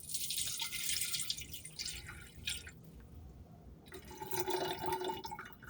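Mineral water being poured into green tea, a light running trickle with drips, stopping midway and then resuming, close and fairly soft with no talk.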